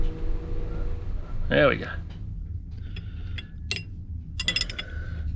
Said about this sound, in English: Next thing to do is just grab the big spanner and give it some love.